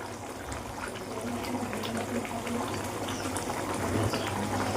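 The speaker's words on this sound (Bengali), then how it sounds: "দিয়ে একটু ফুটবে আমি আলগা করে দিলাম" Hilsa fish curry with milk added simmers in a pan, giving a steady soft bubbling and fizzing hiss that holds evenly throughout at close range, with no voices.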